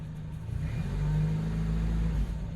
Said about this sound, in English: turn the key, and there it is running